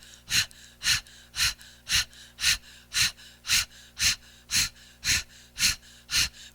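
Rapid rhythmic panting during a kriya yoga exercise, about a dozen sharp, evenly spaced breaths, each a short forceful burst, close and fairly loud with no talking.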